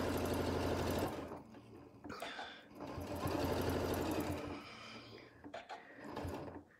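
A sewing machine with a quarter-inch foot stitches a seam on a Christmas stocking in bursts of fast rhythmic whirring, pausing and restarting, close and moderately loud with brief gaps.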